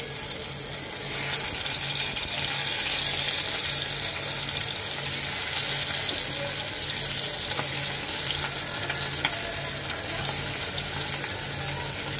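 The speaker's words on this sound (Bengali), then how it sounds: "তো মাছগুলি ভাজা হোক" Tengra fish fry in hot oil in a wok, a dense, even, loud sizzle that runs unbroken throughout with no voices.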